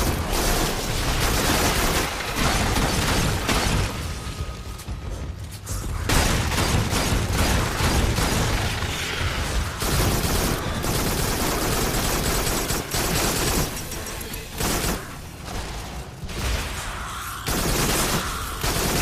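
Rapid gunfire from the Farpoint PSVR shooter game fills the whole stretch, a dense, continuous barrage of shots and blasts with brief lulls, loud and close, with no one talking over it.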